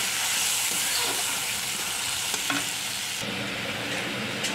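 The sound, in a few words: spices and cumin paste being stir-fried in a pan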